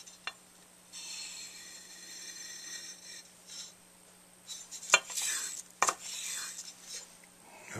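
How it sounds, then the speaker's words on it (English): A ring is rubbed across sandpaper, soft close scratchy strokes in short passes with a couple of sharper taps, faint under a low steady hum. "take a little pass on the sandpaper"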